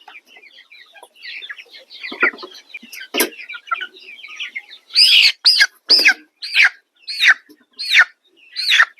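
Faverolles chickens clucking softly at first, then a run of loud, sharp, evenly spaced squawking calls close by.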